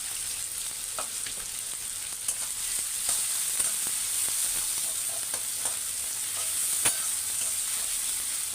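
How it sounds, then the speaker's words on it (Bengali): Onions sizzle steadily in hot oil in a pan, a close, even crackling hiss with occasional stirring scrapes and clicks, no talk over it. "পেঁয়াজটা লাল লাল করে ভাজা হয়ে গেলে"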